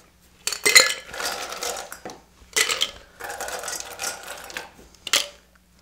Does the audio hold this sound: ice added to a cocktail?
yes